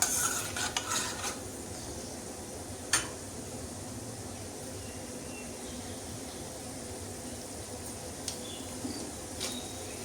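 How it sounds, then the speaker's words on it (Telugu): Chana dal, urad dal, mustard seeds and cumin fry in a little oil for tempering, giving a faint continuous sizzle with a few sharp crackles and pops, loudest at the start and then steady and quiet. "ఇప్పుడు దానికోసమని తాలింపు పెట్టుకుంటున్నాను కొంచెం ఆయిల్ వేసుకొని తాలింపు తింటున్నాను పచ్చనపప్పు మినపప్పు ఆవాలు జీలకర్ర"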